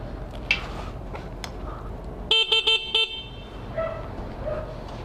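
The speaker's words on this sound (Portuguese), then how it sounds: "Tem que buzinar de novo?" A motorcycle delivery rider's vehicle horn honks four short times in quick succession outdoors, clear above the background street noise.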